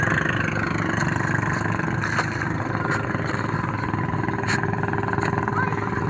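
A boat engine idles with a steady low rumble at a fishport on Talim Island, Binangonan, Rizal, loud and continuous throughout, with faint voices and occasional clinks in the background.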